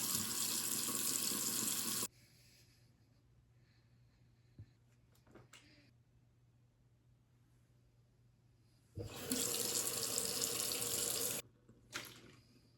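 A kitchen tap runs water into a glass in two bursts, a loud steady gush for about two seconds, then a quiet pause with small clinks, then a second gush before shutting off.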